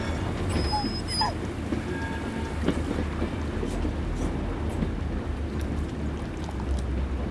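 A train in the Blair Witch horror game rolls along with a steady low rumble and constant broadband noise, and faint tonal squeals drift above it. The sound is continuous and even throughout, with no voices.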